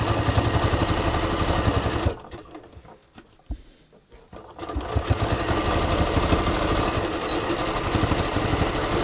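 Sewing machine zigzag stitching through the folded layers of a jeans waistband, a loud steady motor whir with a stitch patter that stops briefly in the middle and then resumes.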